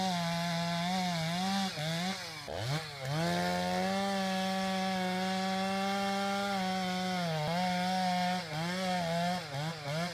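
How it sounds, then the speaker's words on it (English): A chainsaw runs loud and continuous while felling a tree in a forest, its engine pitch dipping and bogging under load at a few points as the cut goes on. "The friction from the chainsaw creates very high temperatures, which can cause fires during the tree felling process."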